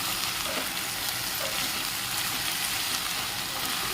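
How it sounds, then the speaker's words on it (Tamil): Ivy gourd fries with salt in a pan, giving a steady, dense sizzle throughout. It is close and even, with faint stirring scrapes. "சால்ட் சேர்த்துட்டு நல்லா இந்த மாதிரி ஃப்ரை பண்ணிவிடுங்க."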